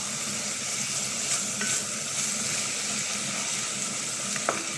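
Shrimp sizzling in a hot pan with crushed pepper while being sautéed for a vegetable dish, a loud, continuous close-up fry with a few small pops and scrapes.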